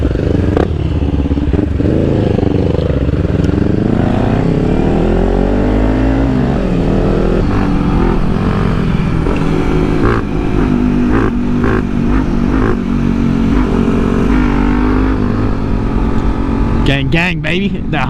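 Kawasaki Ninja 400 motorcycle pulling hard down a straight road, engine rising in pitch through successive gears, loud and close from the rider's position under steady wind rush, a voice briefly talking near the end.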